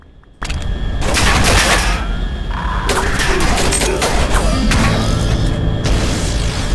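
Shotgun blasts and combat noise in the VR game Hover Junkers, a dense, loud barrage of booming shots and clattering impacts that starts abruptly and continues throughout with no voices.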